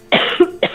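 A woman coughs twice, sharp and close, the two bursts separated by a brief pause.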